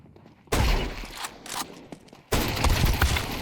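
Counter-Strike gunfire in two dense, loud bursts of rapid shots with metallic clatter, separated by a quieter stretch of footsteps and mechanical noise.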